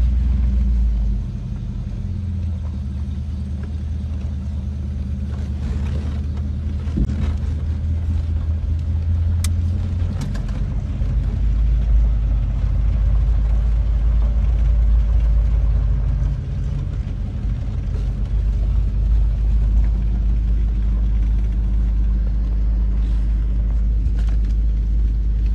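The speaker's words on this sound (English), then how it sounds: "Downshifting." A 1953 Oldsmobile 88 engine rumbles deep and loud while driving on the road, its low drone shifting in pitch as it downshifts, with steady road noise throughout and no talking.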